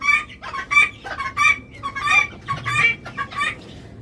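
Backyard chickens kept by a household, part of a flock that has been dying off one after another, cluck in a busy run of close, repeated calls with no talking.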